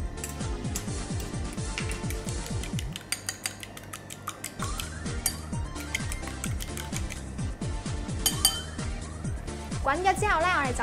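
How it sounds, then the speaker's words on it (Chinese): Eggs being beaten in a bowl for an egg-drop corn soup, a fast run of close clinking utensil strokes against the bowl, pausing briefly before resuming. "我哋就可以打蛋"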